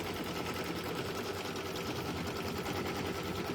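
A sewing machine stitches fabric for stuffed toys with a steady, even, rapid mechanical whir that runs without a break for several seconds at moderate volume.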